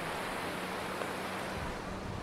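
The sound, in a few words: sea waves at Murud beach, Konkan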